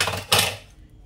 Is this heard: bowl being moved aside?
yes